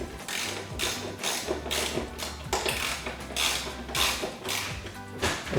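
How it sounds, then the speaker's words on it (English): A hand ratchet fitted with a 10mm socket tightens bolts on a Jeep Wrangler TJ side step bar, giving repeated bursts of rapid close clicking in steady strokes with short pauses between them. "now you need the 10mm socket. And we'll just lightly tighten these up."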